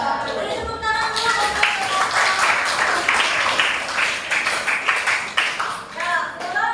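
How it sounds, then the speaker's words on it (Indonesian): Classroom applause for a student group, a dense burst of many hands clapping together for several seconds, fairly loud and near, with voices mixed in. "Beri tepuk tangan dulu."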